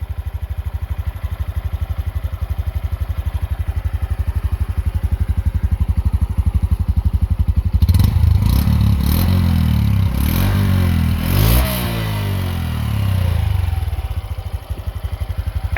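A 2021 Honda Trail CT-125, an 8.7 horsepower motorcycle, idles with a steady, smooth, fast putter up close, then briefly revs in a few rising swells before settling back to idle.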